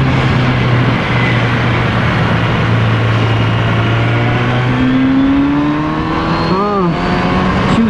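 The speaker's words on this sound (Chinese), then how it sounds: "那我们现在当然来试驾看看这台车在山路上的表现。" A Kawasaki Z900RS Cafe motorcycle ridden on a mountain road, its engine loud and steady with rising and falling pitch as it accelerates and shifts, recorded close on the bike with heavy wind.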